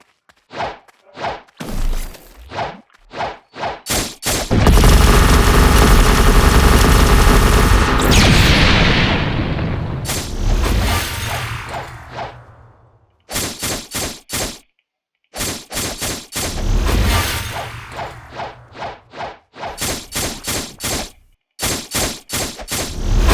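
Rapid bursts of game gunfire crack in quick succession, broken by a long heavy explosion-like roar, loud and dense with short silent gaps.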